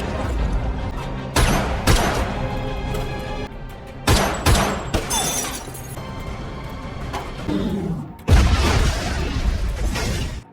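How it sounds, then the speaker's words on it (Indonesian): Gunfire in a film shootout erupts in loud, sharp bursts with crashing impacts and echoing booms, separated by brief quieter stretches and ending in a sustained burst. "Tak lama ia mendatangi tempat Kolonel Moon dan baku tembak pun terjadi."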